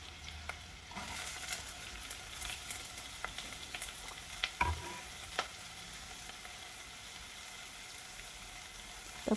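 Onions sauté in a hot pan with a continuous soft sizzle and frying crackle, broken by occasional stirring clicks and scrapes, fairly quiet and close, with no voices.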